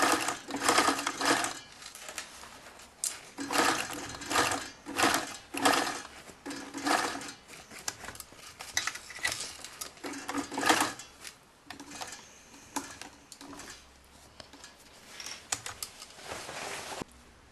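Sewing machine topstitching the waistband of an unlined skirt, heard as rapid mechanical stitching bursts that start and stop in short runs, close and fairly clear, with no talk over it.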